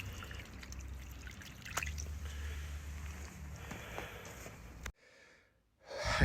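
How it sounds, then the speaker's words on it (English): Dark, dirty water drains from a domestic central heating system, a steady trickling and gurgling wash with occasional drips, moderately close, cutting out abruptly near the end before resuming. "Just started draining down as well."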